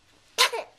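A child sneezes once, a single sharp burst with a brief breathy tail, close and fairly loud after near silence.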